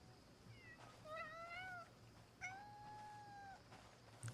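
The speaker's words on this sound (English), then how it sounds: "Oh, it's a tabby cat." A tabby cat in the game Crimson Desert gives several drawn-out meows, a pair of quick rising calls followed by one longer plaintive meow, close but fairly soft over quiet ambience.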